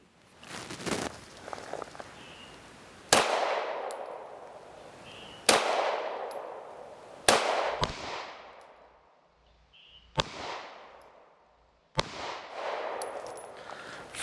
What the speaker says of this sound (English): I'm going to do my accuracy test, 3 shots each with my BRG